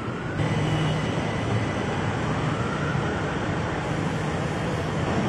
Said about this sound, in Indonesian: Baru saja diberangkatkan dari jalur 2 LRT Jabodebek tujuan stasiun Duku Atas.